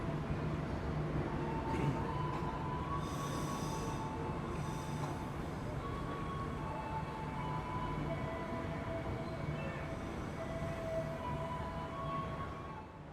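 A KRL commuter train departs near a stopped long-distance Pasundan train, producing a faint, steady rail rumble with thin wheel squeals and tones drifting over it. The sound is continuous and distant, with no clear talking.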